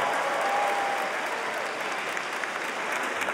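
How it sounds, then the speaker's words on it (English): Steady, dense applause from a large audience at a stand-up comedy show in an arena, sustained at an even level with no break. "Round of applause, growing up."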